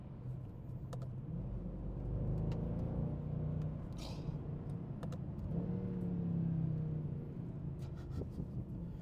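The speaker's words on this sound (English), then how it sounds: "Let's just enjoy the engine a little bit more, because I think we should." A Mercedes-Benz C 63 AMG W204's deep V8 engine idles and rumbles nearby, swelling a couple of times as it revs gently, with a few faint clicks on top.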